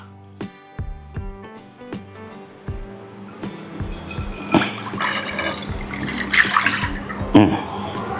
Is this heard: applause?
no